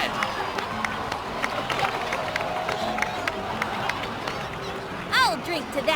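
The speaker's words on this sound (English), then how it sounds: "please give another round of applause for them" Cheering crowd and scattered applause in a Genshin Impact cutscene celebration, a steady bustling roar with bright whistle-like chirps near the end, over continuous background chatter.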